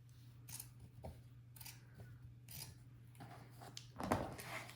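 Scissors trim shirt fabric for a button-up Oxford shirt, giving faint, intermittent snips and rustles close by over a low steady hum.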